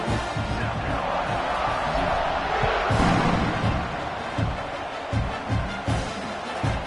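A large home crowd cheers and roars continuously at an Oklahoma versus South Carolina college football game, a dense stadium wash with occasional thumps and a swell in the middle.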